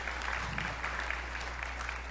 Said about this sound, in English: Can we give her just a round of applause to all our guests here today?